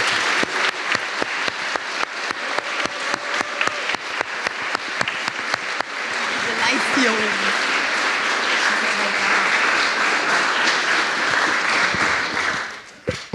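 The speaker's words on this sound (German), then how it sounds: "einen riesen Applaus an euch bitte." Audience at a youth hackathon's final presentation in Dresden applauds the participants: first rhythmic, fairly loud synchronized clapping in a steady beat, then a dense continuous wash of applause that swells and cuts off at the end.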